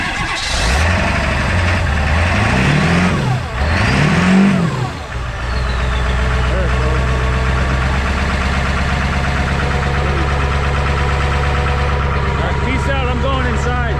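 A diesel landscaping-fleet engine idles after a cold start in sub-zero weather, a loud, steady low rumble with a clattering knock that continues throughout, preceded by a few rising revs and voices near the beginning.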